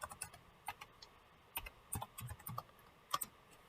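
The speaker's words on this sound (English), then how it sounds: "I'm just typing one thing" Quick, light clicks of keys on a computer keyboard, a short irregular burst of separate taps at close range in a quiet room.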